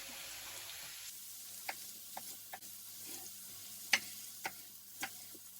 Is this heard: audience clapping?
no